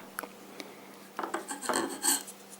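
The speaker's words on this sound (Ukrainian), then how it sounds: "Так що тільки з другої сторони ми його теж зачистимо і відточимо лезо, яке буде різати." A file rasps against the blade of a pruning shears during sharpening. Short scattered scrapes at first build into a denser run of close gritty strokes, fairly quiet, with no voices.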